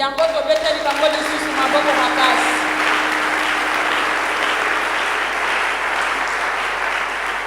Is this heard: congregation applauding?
yes